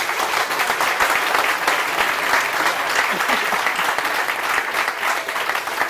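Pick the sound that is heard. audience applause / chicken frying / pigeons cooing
audience applause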